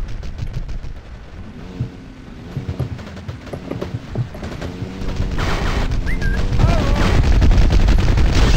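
Gunfire in Battlefield Heroes as a steady rattle of repeated shots, moderately close, growing louder and denser toward the end, with game sounds mixed in.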